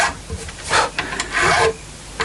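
A file rasping along the frets of a Tanglewood Les Paul Custom guitar to take off burrs, heard as short, close, scratchy strokes in an uneven back-and-forth rhythm, with brief pauses between passes.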